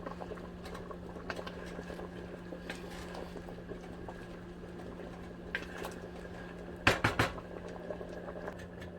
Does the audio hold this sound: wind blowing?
no